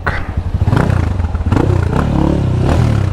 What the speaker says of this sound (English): I'm riding a bike, bruv.